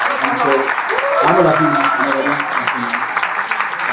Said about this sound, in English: So please, round of applause for my fiancée.